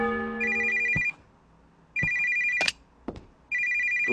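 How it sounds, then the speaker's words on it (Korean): A telephone rings in the horror video game Moshimo, three bright electronic ring bursts separated by short gaps, loud and close, with a few sharp clicks between rings. "또 전화 왔어."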